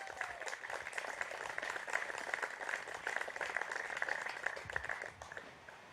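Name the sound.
wedding guests' round of applause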